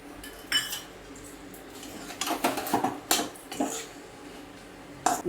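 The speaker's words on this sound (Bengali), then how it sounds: "ভালো করে আর একবার একটু কষিয়ে নিচ্ছি" Moong dal with papaya being sautéed in a pan, heard as close, irregular metal scrapes and clanks of a spoon against the cookware over a quiet background, with no talking.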